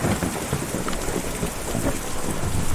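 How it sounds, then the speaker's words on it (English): A thunderstorm in the video game Kentucky Route Zero: steady heavy rain with low rolling thunder and a dense, constant wash of noise, with no voices. "Difficult to see or even hear a storm like that"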